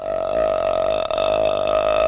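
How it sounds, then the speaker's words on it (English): A loud, continuous burp sound effect played back from Media Monkey software, a single long sustained belch lasting about two seconds with a steady droning tone and a brief dip midway. "I played the burp"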